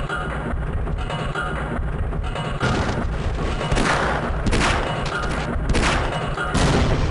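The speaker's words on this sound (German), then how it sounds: "Ein Schuss, der muss sitzen." Gunfire from the 1998 PC game Half-Life, several loud, sharp shots bursting in quick succession over a constant background of game noise, with a voice talking faintly.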